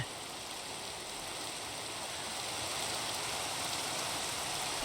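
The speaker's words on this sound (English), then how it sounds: "we're getting the rain noise, but we're not getting the actual rain particles" Steady rain ambience plays in Minecraft above a jungle surface, a continuous even hiss of falling rain that grows slightly louder and never pauses.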